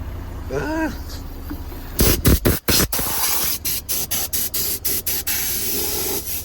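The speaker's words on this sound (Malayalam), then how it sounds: "ഫുള്ള് വെള്ളം സ്പ്രേ അടിച്ച് വെച്ചിട്ടുണ്ട് കേട്ടോ." A loud hissing spray of water starts abruptly and continues in repeated bursts with brief gaps, after a short stretch of quiet talk.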